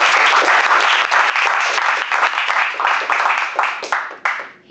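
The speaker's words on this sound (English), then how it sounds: "So let's give a big clap for Louis Stenbaum." Audience at a Toastmasters club meeting clapping loudly and steadily, a close, dense burst of applause that thins out and tapers off at the end.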